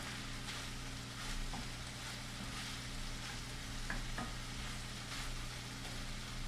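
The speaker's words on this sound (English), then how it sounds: "the sound of this sizzling is just being amplified in my headphones" Chorizo sizzles steadily in a pan, a continuous close frying hiss with occasional light clinks and stirring scrapes, unbroken throughout.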